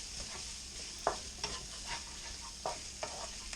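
Fried rice with garlic, spring onions and peas is stir-fried in a pan, a soft steady sizzle under a few sharp scrapes and taps of a spatula, fairly quiet and close.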